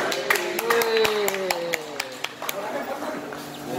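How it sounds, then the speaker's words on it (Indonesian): Scattered hand claps from a small group, sparse and uneven rather than a full ovation, with voices chattering over them. "Kasih tepuk tangan dulu."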